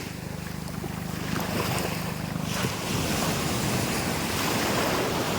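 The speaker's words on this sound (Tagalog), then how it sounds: "Medyo maalon-alon konti guys" Choppy surf rolls in at White Beach, Puerto Galera, under low-pressure weather: a constant loud wash of breaking waves with heavy wind buffeting the microphone and no voices.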